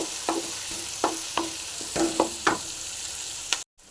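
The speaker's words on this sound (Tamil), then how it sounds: "நல்லா ஃப்ரை ஆகட்டும் சின்ன வெங்காயம் நல்லா ஃப்ரை ஆகட்டும்" Small onions frying in hot oil in a pan for pickle, a steady close sizzle broken by repeated stirring scrapes about every half second, then a sudden cutoff at the end.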